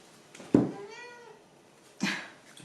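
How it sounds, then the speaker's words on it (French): Two cat meows, a drawn-out one followed by a shorter one, close and fairly loud with a quiet pause between them. "Le chat."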